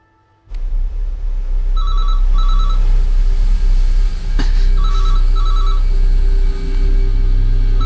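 An electronic telephone rings in two short double bursts, loud and close, over a steady low hum.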